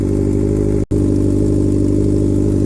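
A Honda CBR600RR motorcycle engine idles roughly, a loud, close, steady low drone with uneven pulsing and one abrupt momentary dropout.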